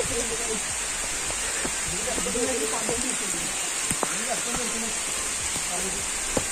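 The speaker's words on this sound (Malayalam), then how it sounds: "നല്ല മഴയാണ്" Heavy rain falling on Kottathalachi hill in Kannur, a dense, steady hiss of drops on surfaces close by, with voices faintly present beneath the downpour.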